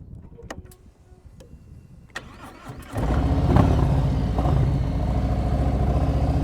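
Motorcycle engine during slow-speed riding practice around cones, quiet at first with faint clicks, then a steady loaded throttle hum rising at the three-second mark and holding close and continuous to the end.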